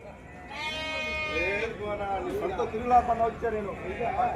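Sheep bleat at a night livestock market in Gudur, one long quavering call followed by overlapping nearby bleats, with people talking in the background.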